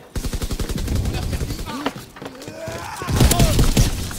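Rapid rifle gunfire from an M1 Garand in Call of Duty WW2 multiplayer, a burst of sharp shots near the start followed by further scattered cracks and clatter, loud and close within busy game noise.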